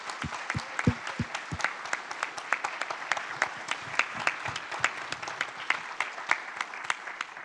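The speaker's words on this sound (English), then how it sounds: "a special round of applause for our veterans and the people that have changed the industry" An audience applauds veterans at an event in a fairly soft, steady patter of many hands, with a few sharper, louder claps standing out early on.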